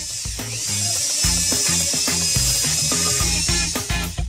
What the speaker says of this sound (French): Et si on l'essayait avec la perceuse?